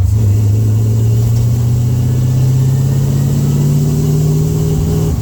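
A car engine with a fault that makes it quit at a certain RPM runs loud and close, its pitch creeping slowly upward across the clip without cutting out.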